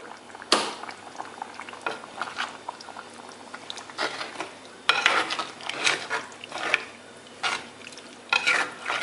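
Kerala mutton curry with garam masala bubbles in a pot as it gets stirred, with a thick liquid simmer and repeated loud scraping and clanking of the spoon against the pot, close up and without speech.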